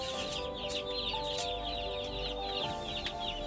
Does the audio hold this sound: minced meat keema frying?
no